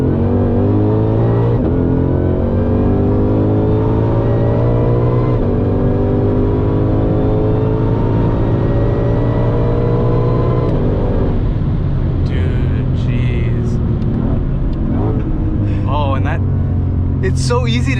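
A Ford Shelby GT500 accelerates hard, its engine note climbing and dropping sharply with each quick upshift; the loud, close V8 roar runs under a driver talking.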